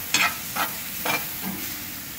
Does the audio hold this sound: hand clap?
no